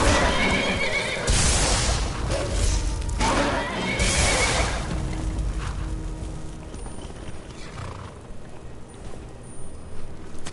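In Skyrim, a horse whinnies loudly in several sharp calls early on, mixed with hoof clatter and game noise that fades toward the end.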